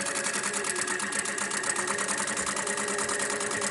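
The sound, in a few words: sewing machine stitching a rag doll body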